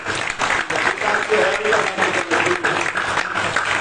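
Audience applause at the closing of a Shiv Mahapuran religious discourse, a dense, steady burst of many hands clapping for nearly four seconds, fairly loud, with some voices mixed in.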